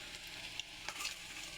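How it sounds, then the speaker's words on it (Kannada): Wedding-style pakoda frying in oil over a medium flame makes a faint, steady sizzle with a few light crackles and pops. The moment is brief and quiet, with no talking. "ಫ್ರೈ ಆಗಿದ ತಕ್ಷಣ ಇನ್ನೊಂದು ಸೈಡ್ ಕೂಡ ಹಂಗೆ ಫ್ರೈ ಮಾಡ್ಕೊಳ್ಳೋಣ."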